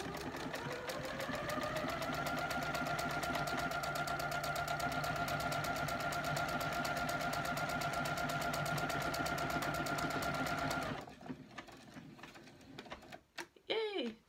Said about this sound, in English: before I sew the buttonhole I remove the pen and get this all lined up